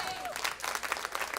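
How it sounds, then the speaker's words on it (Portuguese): A church congregation breaks into brisk applause, a quick burst of many hands clapping, with a voice briefly carrying over the start. "aplauda ao Senhor"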